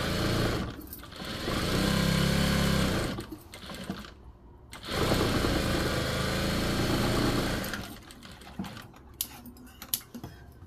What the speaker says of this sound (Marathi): आपण याच्या कडेनी अर्धा इंचाने टीप मारून घेऊ